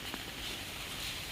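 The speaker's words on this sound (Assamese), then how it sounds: "বৰষুণ দি আছে" Steady rain falls outside a house by its garden gate and flowers, a continuous soft hiss with light patter and no voices.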